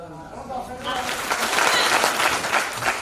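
Audience applause at a motivational speech event in Odisha, a burst of clapping that swells up after a spoken line and carries on steadily, fairly close and full.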